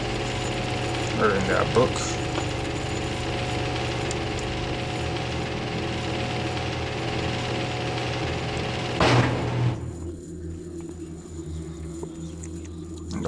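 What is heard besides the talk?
elevator descending in video game Thief: The Dark Project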